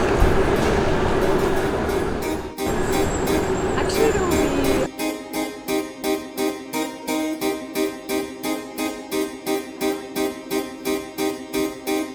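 Train ride on the way to a festival, starting with rumbling onboard noise and voices, then a steady, rhythmic clatter of wheels over rail joints that repeats about twice a second, close and even.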